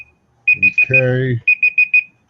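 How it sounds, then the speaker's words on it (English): A timer buzzer goes off in a series of sharp, evenly spaced electronic beeps. A voice speaks over it partway through, then the beeps resume and stop. "we'll hear the buzzer in 30 seconds"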